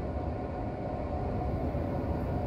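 A train rolls along a railway with a steady, even rumble and hiss, loud and continuous throughout, with no voices.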